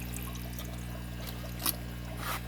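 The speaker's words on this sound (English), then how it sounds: "look at the good water flow we got going in there" Water flows steadily from a Marineland Penguin 150 aquarium filter, a soft continuous trickle and splash under a constant low hum, with a brief brighter splash midway.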